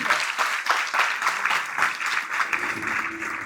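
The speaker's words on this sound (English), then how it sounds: "give a big round of applause for the team" Sustained applause from an audience at a school cultural education camp in Rameshwaram, dense and even clapping that continues throughout, with a faint tone rising near the end.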